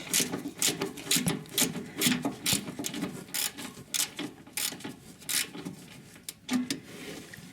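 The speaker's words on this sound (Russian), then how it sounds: "И пошел откручивать." A wrench unscrews a front suspension bolt on a car, producing a close series of sharp ratcheting clicks and scraping metal strokes in uneven bursts, with no talking.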